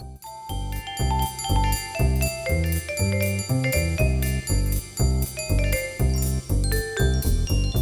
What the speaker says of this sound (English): The bell has gone, Lucy.